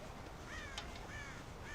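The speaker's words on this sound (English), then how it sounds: "God damn crows!" Crows cawing in the video game Red Dead Redemption, a few short harsh calls spread across a steady background of ambient game noise, moderately loud.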